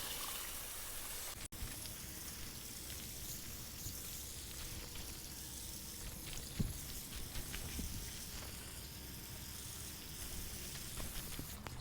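Newly planted garden plants being watered, a soft, continuous hiss and patter of water falling on leaves and soil, faint and steady throughout with one sharp knock early on and no talk.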